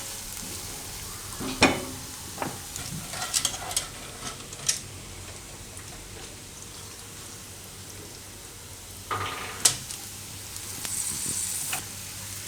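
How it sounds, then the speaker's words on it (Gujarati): Soya chunks frying in masala gravy hiss with a constant crackling sizzle, broken by intermittent scrapes and clacks of a spoon stirring the pan, close by, with no talking. "તો આને આપણે 1 થી 2 મિનિટ આ રીતે મસાલામાં ફેરવી લેવાનું"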